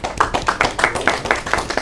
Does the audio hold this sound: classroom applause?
yes